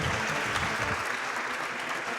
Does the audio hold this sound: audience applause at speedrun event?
yes